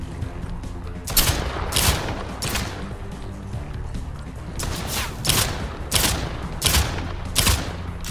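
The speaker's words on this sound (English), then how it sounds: "Let's go with the shotgun." Shotgun blasts go off in the Hentai vs. Evil video game, a series of loud, sharp booming shots in uneven clusters, about eight in all, over steady game background noise.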